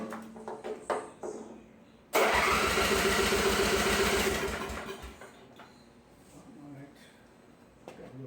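A 1980s Snapper lawn mower engine cranks and catches after its starter is shorted, bursting into a loud, steady rapid putter for a couple of seconds before winding down, with voices talking faintly before and after.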